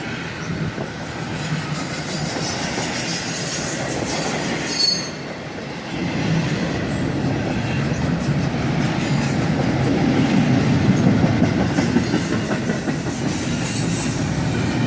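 CSX double-stack freight train passing at medium speed on a summer day, a loud continuous rumble of railcars with wheel squeal and rhythmic clickety-clack building steadily throughout, no talk.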